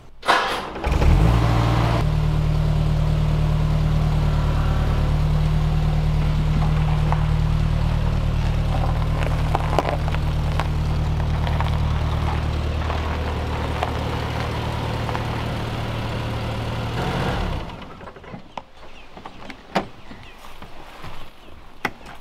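A 1965 Wolseley car engine starts and idles steadily while the car backs out, a loud low rumble that holds for several seconds before cutting off, leaving quieter clicks and outdoor background.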